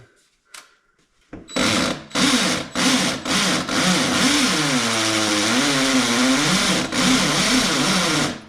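A loud hammer drill roars steadily while drilling into concrete, its motor pitch wavering, after a few short bursts and a quiet start.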